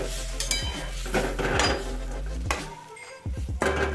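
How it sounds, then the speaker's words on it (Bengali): A spoon stirs potato curry (white aloo dum) in a metal pan, clattering and scraping in close, uneven strokes with a light sizzle underneath. "নাড়াচাড়া করে নেব ভালো করে"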